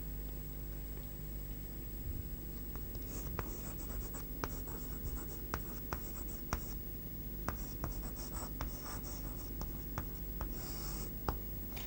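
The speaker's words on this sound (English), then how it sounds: "Tswreis, now I would like to write the definition of the cardiac cycle." Pen or pencil writing out a definition of the cardiac cycle during a classroom lesson, with steady scratching strokes and taps running for about twelve seconds against a low background hum, no speech.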